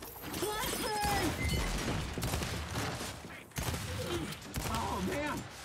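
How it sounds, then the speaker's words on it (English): Flashbang grenade bursts in Gears 5 amid dense rattling gunfire and clattering combat noise, a sharp jolt partway through over steady battle din, with several people shouting and talking throughout. "Incoming flashbang! Flashbang!"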